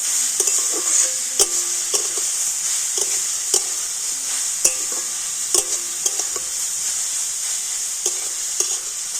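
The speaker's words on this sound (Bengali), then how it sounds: "ঘিয়ের সাথে গাজরটা একটু হালকা করে এইভাবে নাড়াচাড়া করে নেব।" Grated carrot being stirred in hot ghee in a pan, a steady sizzle running throughout, broken by repeated scraping strokes of a spoon at an irregular rhythm, with no talking.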